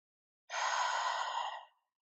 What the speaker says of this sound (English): Deep breathing, feeling that expansion and that release.